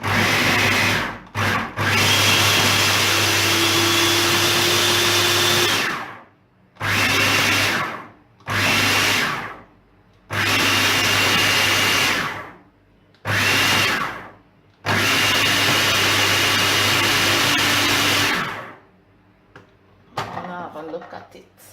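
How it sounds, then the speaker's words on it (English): A food processor finely chops peri peri sauce ingredients in loud whirring bursts of several seconds each, separated by short pauses and ending in quieter clatter. "So now I'm gonna like finely chop everything in the food processor."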